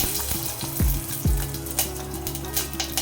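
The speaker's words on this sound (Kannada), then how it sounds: "ಈಗ ಒಂದು ಪಾತ್ರೆಗೆ ಎಣ್ಣೆ, ಎಣ್ಣೆ ಕಾದ ನಂತರ ಸಾಸಿವೆ, ಹಿಂಗು, ಕರಿಬೇವು ಹಾಕಿ" Mustard seeds, asafoetida and curry leaves hitting hot oil in a pot, a loud close burst of bubbling sizzle with a couple of sharp drops, then a steady crackle.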